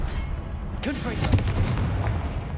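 Confringo blasting-curse explosion in a Harry Potter video game: a sudden booming blast with crackling debris and rumble, loud and close, carrying on for over a second amid other battle noise, with a voice briefly heard.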